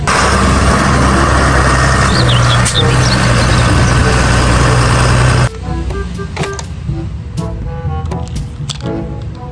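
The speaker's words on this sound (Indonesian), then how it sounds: "Mobil traktor." A toy tractor's engine rumbles and chugs loudly and steadily, then stops abruptly and is followed by scattered clicks and rattles.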